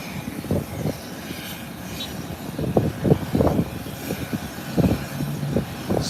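Airplane taking off at Howard Hamilton International Airport, a broad steady engine roar heard from a distance, with gusty rumbles rising and falling.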